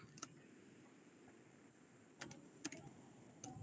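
Code is typed on a computer keyboard in a quiet room, heard as a few sparse, faint keystroke clicks: one near the start, then a small cluster of taps and a last isolated click.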